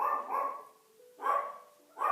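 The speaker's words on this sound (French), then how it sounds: "C'est mon chien qui aboie." A chihuahua barks indoors, three short, high, yappy bursts spaced a little apart, close and fairly clear with no talk over them.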